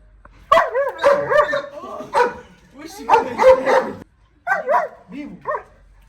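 A dog barks during guard training in a series of loud, close, sharp barks, coming in bursts with short gaps between them.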